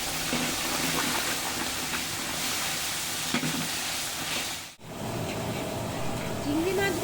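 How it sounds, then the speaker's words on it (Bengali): A steady, loud sizzle of prawns frying in a pan, continuous hiss throughout with a brief dip partway, a voice faintly present underneath. "এখন চিংড়ি মাছগুলো ভেজে নেব"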